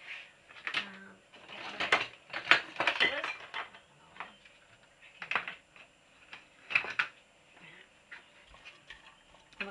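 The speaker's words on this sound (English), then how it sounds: "we're going to stir this round and get it so it goes soft" Utensil scrapes and taps against a pan while onions and celery are stirred over just-below-medium heat to soften, an irregular run of close, clattering contacts with brief pauses between them.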